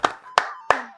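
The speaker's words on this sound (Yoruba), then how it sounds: "Ẹ pàtẹ́wọ́ fún mi." An audience claps on request, three sharp, evenly spaced claps close by, each with a short ringing tail.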